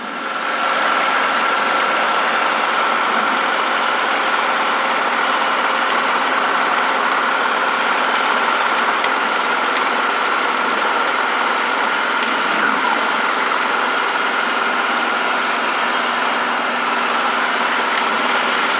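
An R22 helicopter hovering in a left pedal turn gives a loud, steady drone of engine and rotor that holds unbroken throughout with only slight wavering.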